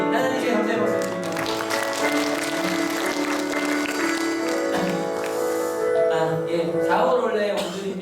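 Church congregation applauding after a prayer, a steady wash of clapping that swells and fades over sustained organ or keyboard chords, with a voice faintly present.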